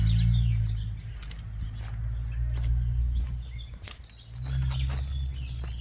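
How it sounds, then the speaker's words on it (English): Birds chirp and tweet in short bright calls scattered over a steady low outdoor rumble, fairly faint and at a distance. "You hear all the birds and stuff,"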